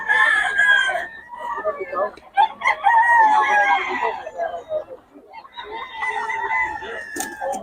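Roosters crow repeatedly with loud, drawn-out calls mixed with clucking, several birds close by, with a voice talking between calls.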